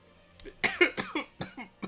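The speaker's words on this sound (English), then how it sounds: "Coughing on stream." A person coughs several times in a quick, close burst of short, sharp hacks lasting under two seconds, with no talking.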